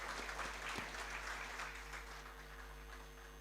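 Audience at a literature and art festival in Bhopal clapping for speakers, a soft continuous wash of applause heard from a distance over a steady low hum, gradually thinning out.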